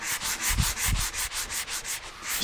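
Steady rhythmic scrubbing of a fine-grit sanding sponge over sanding sealer on an oak table, about a dozen even back-and-forth strokes, close and continuous, with a couple of low knocks partway.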